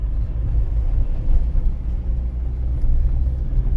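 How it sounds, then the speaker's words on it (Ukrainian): A manual-transmission car drives on a city road and shifts from second to third gear. A steady low engine and road rumble fills the cabin with mild swells and no clear separate gear clunk. "Зараз у мене друга швидкість, я переходжу на третю, у мене механіка"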